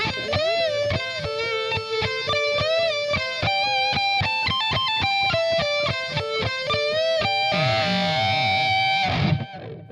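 A distorted electric guitar plays a phrase from a song: a fast run of picked notes that ends in a loud, ringing slide. It is heard alone, with no one talking.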